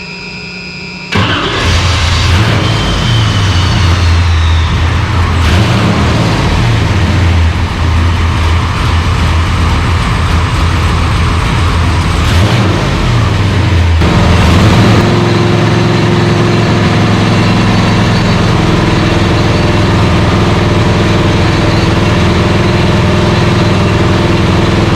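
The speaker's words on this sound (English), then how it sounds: "Please start her up and Steve will know that we're running." A 383 V8 engine with LT4 exhaust fires up on a dyno and runs steadily at a loud, deep idle, the rumble shifting slightly partway through as it keeps going.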